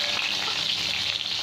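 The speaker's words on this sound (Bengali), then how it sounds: "পটলটা খুব ভালো করে ভেজে নিয়েছি" Slices of pointed gourd (potol) fry in a pan with a dense, continuous sizzle, close and fairly loud, occasionally stirred, with no voices.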